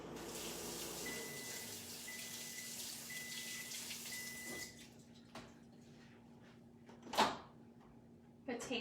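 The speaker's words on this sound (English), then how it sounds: "I'm gonna wash my hands quick here" Water runs steadily from a kitchen tap as hands are washed during a cooking demonstration; the flow cuts off midway, followed by a few clunks and soft handling sounds.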